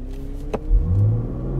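A BMW M3 Competition xDrive launching hard with launch control, its engine note rising steadily in pitch as it pulls away, loud and close after a brief click.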